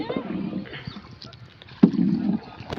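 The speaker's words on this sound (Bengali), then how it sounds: "শুভ নৌকা বাইতে বাইতে চলে আসছে পারে" A village rowboat paddled across water toward the bank gives low splashing and creaking strokes, one sharper knock midway followed by a louder stretch, with faint voices in the background.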